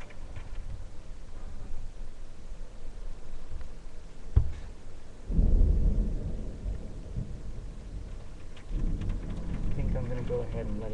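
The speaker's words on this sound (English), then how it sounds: "The storm has passed." Thunderstorm from 2004 with a sharp thunder crack near the middle, then heavier rolling rumble and steady rain noise that swells again toward the end.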